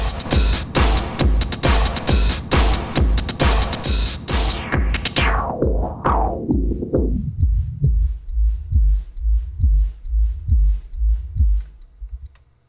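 A filtered heartbeat sound effect plays as a steady, loud run of rhythmic thumps. The bright upper tones gradually fade out until only muffled, low heartbeat thuds remain, with no talking.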